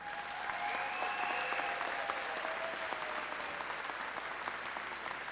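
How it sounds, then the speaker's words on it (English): A large commencement audience applauds the graduates with a continuous, somewhat distant wash of clapping in a big hall, steady throughout with a faint tone lingering in the background. "so you may applaud at this time"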